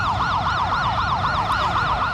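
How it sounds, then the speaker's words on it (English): Emergency vehicle sirens wail at night around Lowe's Motor Speedway, near the scene of a pedestrian bridge collapse; two overlapping sirens rise and fall steadily, loud and continuous, with a low traffic rumble underneath. "The sirens from this night are now setting off other alarms inside Lowe's Motor Speedway headquarters"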